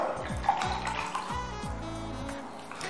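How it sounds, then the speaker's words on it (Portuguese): Water poured into a cup for a school chemistry mixtures demonstration, a steady trickling and splashing stream running continuously for a few seconds at moderate level, with no talking. "Então, pegue um copo, adicione a água."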